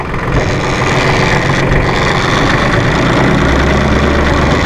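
Diesel engine of a 2005 New Holland TC30 compact tractor with loader running in gear, a loud, close, steady chugging rumble with mechanical clatter that holds throughout, with no voices.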